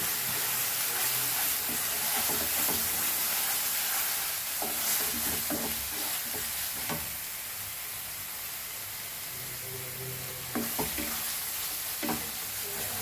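Goan pork sorpotel in green masala frying on a slow flame, a constant close sizzle and hiss with intermittent scraping and clinking from stirring, no voices.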